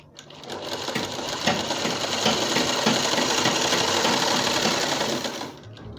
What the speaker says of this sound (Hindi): इस तरह से हम पूरी गोलाई में सिलाई लगाएंगे